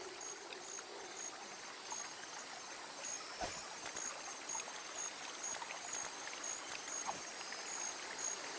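A steady, faint burble of a flowing river in the jungle setting of The Secret of Monkey Island Special Edition video game, a continuous trickling wash with faint insect-like chirps and a couple of soft knocks.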